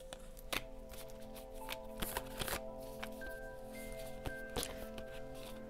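Tarot cards are shuffled by hand, giving faint, close riffling and soft slapping taps in an irregular rhythm against a quiet background hum.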